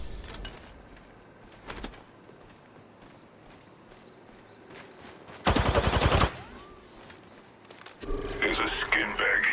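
Automatic weapon fire in the Apex Legends arena mode comes in a loud, dense burst, with scattered shots and game effects around it and quiet spoken callouts.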